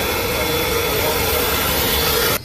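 Steady roar of jet engines heard from inside a private jet cabin, a broad constant rush filling the space at even loudness, with no talking, then dropping off abruptly at the very end.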